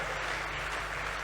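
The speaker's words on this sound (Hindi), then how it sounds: "जरा एक बार आनंद की तालियां दे दीजिए थोड़ा सा।" Audience applause at a live Hindi comedy poetry event at a youth conclave, a brief steady wash of clapping from a crowd, fairly dense and sustained throughout.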